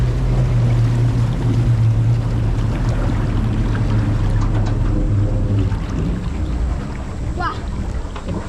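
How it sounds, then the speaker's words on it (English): An amphibious vehicle's propeller motor runs steadily on a creek with a low, continuous drone, mixed with wind buffeting and water noise throughout. "She just turned the propeller on, so we're now officially a boat."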